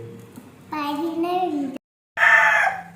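A hen and chicks call, drawn-out harmonic clucking and crow-like cries in two bursts separated by a short silence, fairly close and clear, in a yard.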